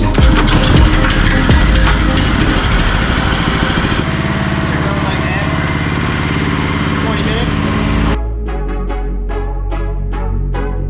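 A 459cc EZGO golf cart engine runs during break-in, a steady loud mechanical putter. The tone shifts partway through, and the engine then cuts to quieter, rhythmic knocking pulses.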